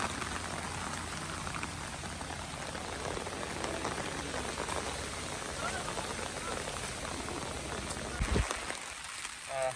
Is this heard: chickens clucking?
no